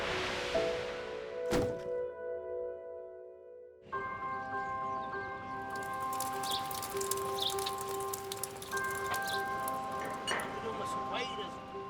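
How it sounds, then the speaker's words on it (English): Rain patters steadily on a wet winter day at a muddy building site, with sharp metallic knocks and ringing tones from steel framing mixed in. "On a rainy, wet winter day"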